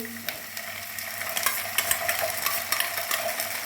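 Sauce poured over bread frying in a pan for chilli bread, with a steady sizzle and repeated scraping, clinking stirs of a utensil against the pan, close and fairly loud with no talk.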